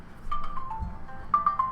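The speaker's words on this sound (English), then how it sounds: "Sorry, that was my phone." A phone rings close by in a quiet room, with a few short electronic chirps in a rising and repeating pattern and no talking.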